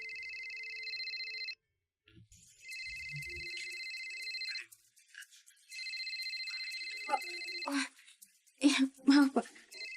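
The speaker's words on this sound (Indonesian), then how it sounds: "Kayaknya ada yang telepon." Mobile phone ringing indoors, a bright repeating electronic ringtone in long bursts broken by short gaps, while people speak briefly between and over the rings.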